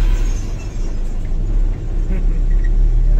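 A loaded truck on the Sangli–Ratnagiri road rattles as it drives, under a constant low engine rumble and road noise, with wind in the background.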